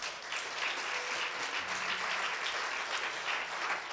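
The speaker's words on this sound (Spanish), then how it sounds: "Vamos a darle un aplauso a ellos." A church congregation applauding during a Sunday service, dense, even clapping from many hands filling the room for several seconds without a break.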